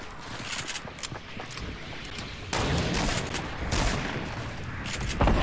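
Rapid bursts of gunfire in Fortnite, close and loud, with dense rattling volleys that grow heavier partway through and continue without talk.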